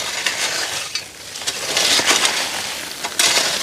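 Cluster beans are snapped off the plant by hand in a farm plot, making a steady stream of dry, crackly rustling and sharp little snaps, fairly close and loud, with no talking.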